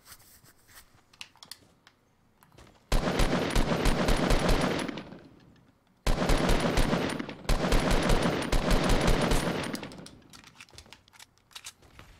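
Gunfire in Fortnite on a Brazilian server, loud rapid automatic bursts in two long sustained volleys separated by a brief pause, with scattered lighter clicks between them.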